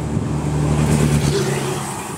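A truck drives along the busy BR-101 highway in Itajaí, Santa Catarina, near a Votorantim cement factory, its steady low engine drone close and loud amid traffic, holding for a couple of seconds before easing slightly.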